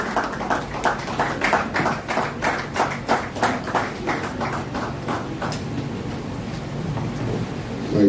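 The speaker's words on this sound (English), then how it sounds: "Distinguished ladies and gentlemen, please a round of applause for Chief." Crowd applause for a chief at a laboratory complex commissioning ceremony, a dense patter of many hands clapping steadily at moderate distance, thinning slightly toward the end.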